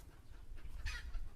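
A hen clucks faintly as she lays, giving a brief, quiet burst of cackling against low background rumble.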